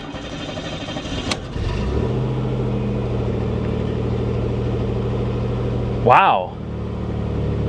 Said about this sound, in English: It fired right up. It runs perfect.